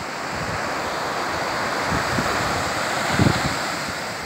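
Atlantic waves rolling onto Granja beach in Portugal, a continuous rushing surf with wind buffeting the microphone and a couple of heavier swells breaking nearby.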